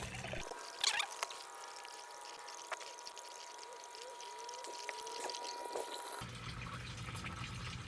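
Water pumped into hydroponic flood-and-drain buckets, a quiet steady trickle and gurgle of filling water with a few small splashes and drips, faint throughout.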